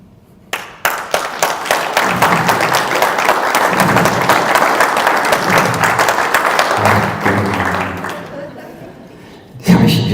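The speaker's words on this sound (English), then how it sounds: "I mean, I got the applause." An audience applauds a keynote by the founder of the startup SurchX at a 2019 Phoenix event, steady dense clapping for about eight seconds, then a loud thump near the end.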